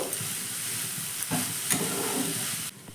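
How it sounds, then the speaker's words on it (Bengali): Loud continuous sizzling of mixed vegetables being turned over and stirred in a hot pan, a dense hiss with a few soft scrapes, close up and steady before cutting off abruptly near the end. "ভালো করে আবার সবজিটা উপর নিচ করে নাড়াচাড়া করে নেব"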